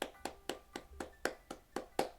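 Hands clap nine times in an even, brisk rhythm, each sharp crisp clap close and alone with no talk.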